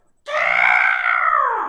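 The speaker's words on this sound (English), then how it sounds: "kind of a high-pitched scream of pain and anger from the darkness" A single drawn-out, high-pitched cry of pain and anger bursts in after a short silence and holds loud and steady, wavering slightly as it fades, voiced by a person playing a tabletop role-playing game.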